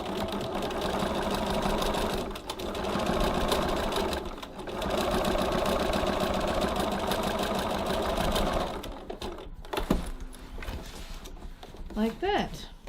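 A sewing machine runs a steady, even stitching whir while sewing the second row of stitching along a tote bag's side seam, then stops and leaves a few light clicks and handling noises.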